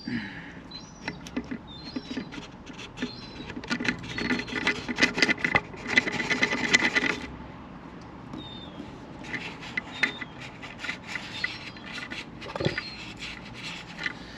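A cloth rubs and wipes oil off a Mercedes OM642 diesel engine in short, close scrubbing strokes of varying strength, with a few small knocks and clicks in between.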